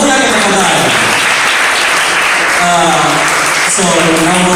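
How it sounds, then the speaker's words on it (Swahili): Audience applauding a contemporary ballet dancer at a 2020 concert, dense steady clapping and cheering that fills the whole moment, with voices mixed in. "Makofi yake tafadhali"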